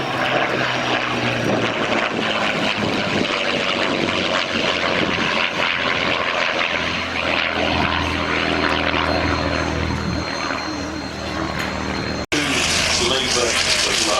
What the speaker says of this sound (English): Here comes the PDMF Spitfire 9.